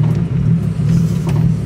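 A car engine held at steady revs during drift practice, a loud continuous low droning hum close by with slight fluctuations in pitch.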